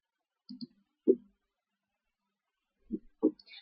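A computer mouse clicks while someone builds a web page on wix.com: a few sparse, quiet, close clicks separated by silence.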